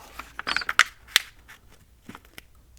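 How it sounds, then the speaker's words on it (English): Pages of a paperback copy of The Hunger Games being turned and handled nearby, with a few crisp rustles and flicks, then quieter shuffling. "These pages are kind of loud."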